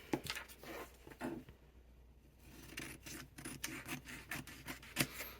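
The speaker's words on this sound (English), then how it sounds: "I'm just going to cut it in half." Scissors cutting a paper sewing pattern in half, soft rustling and rubbing of paper with crisp snips, quiet and close with a brief lull partway through and no talk.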